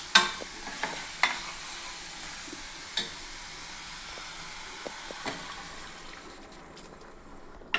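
Prawn and chama gadda (colocasia) curry simmering in a pan, with a steady soft sizzle and bubbling hiss and a few sharp clinks of a spoon stirring; no talking.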